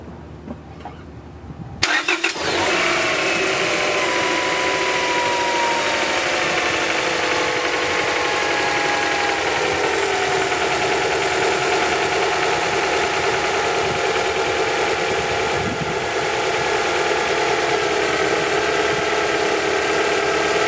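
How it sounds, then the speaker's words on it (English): A Honda car engine cranks and fires after new ignition parts and spark plugs are fitted, then settles into a steady, close, continuous idle for the rest of the time. "I'm just going to go ahead and start it up."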